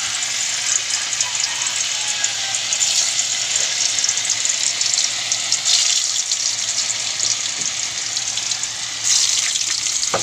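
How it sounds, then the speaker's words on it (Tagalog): Continuous crackling sizzle of tofu frying in a hot pan, close up and steady throughout, with occasional spatters. "Okay, prito na natin ating tokwa."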